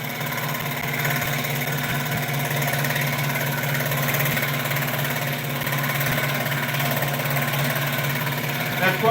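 A tabletop cutting machine runs with a loud, steady droning hum and whine, unchanging throughout, with a faint voice underneath.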